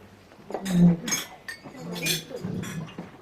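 Several glasses clink together during a toast at a wedding reception at a country club, with brief bright chinks under murmuring voices.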